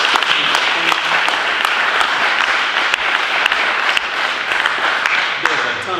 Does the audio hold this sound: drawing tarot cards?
no